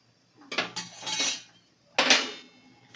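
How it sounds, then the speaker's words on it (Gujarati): Salt is stirred in a metal pan to roast peanuts, giving two bursts of scraping, rattling stirring with a short pause between, close and loud with no talk. "સતત હલાવતા રહી અને શેકવાના છે."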